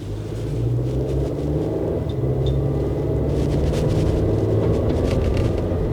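A Suzuki Jimny with a 1500cc engine running while driving, heard from inside as a steady, low, smooth rumble with faint road noise and no sharp revving.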